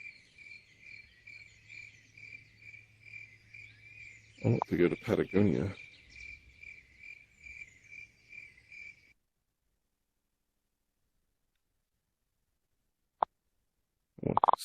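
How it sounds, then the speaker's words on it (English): Steady, rhythmic cricket chirping in a virtual-reality travel scene, continuing for several seconds while a person briefly talks over it, then cutting off into silence. "You hear the crickets chirping?"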